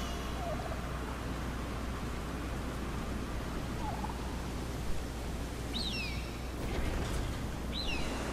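A snow eagle in The Pathless, set in a mountain tundra, gives a few faint, high, gobbling calls over a steady wash of wind-like background noise, with two clearer cries near the end.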